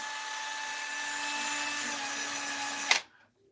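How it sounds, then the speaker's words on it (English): A power drill whirs steadily at high speed for about three seconds, then stops abruptly, leaving near silence. "I still got my drill here"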